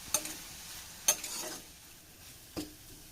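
Onions sautéing in a pan for a green peas dish: a soft, low background sizzle broken by three sharp spoon scrapes against the pan, spaced about a second apart.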